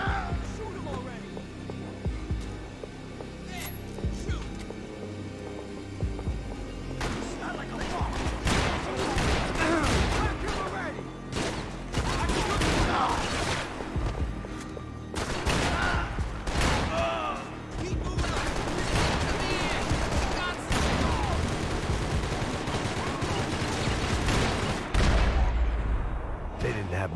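Video game gunfire from a Max Payne style shooter: repeated sharp shots and bursts crackle through a steady hum of music and ambience, loud and close, with brief pauses between volleys and occasional voices.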